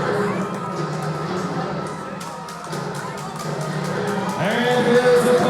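A live professional wrestling crowd in an arena cheering for a high-flying wrestler, a broad roar of many voices with shouts and claps, rising louder toward the end, with a commentator talking over it.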